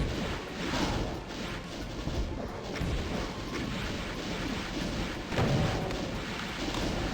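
Dense, continuous booming rocket explosions and gunfire roar from a Doom II game on UltraViolence fast mode, loud and unbroken for the whole stretch.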